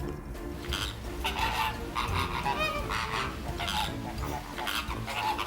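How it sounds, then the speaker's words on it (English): A flamingo calls repeatedly with loud, honking, goose-like cries, close by and persistent, with a few faint bursts of background noise between calls. "it starts to sing and shout towards me to welcome me in its domain"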